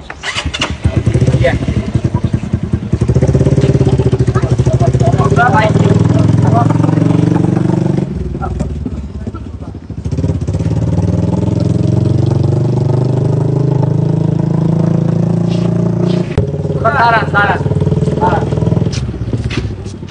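A motorcycle engine runs steadily in first gear during a riding lesson, its rising and falling revs close and continuous for about twenty seconds, with a brief dip midway, while an instructor talks over it.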